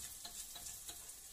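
Chopped garlic frying in a pan as the base for homemade fried rice, a soft steady sizzle with faint stirring scrapes recurring every few tenths of a second, close and fairly quiet, with no talking.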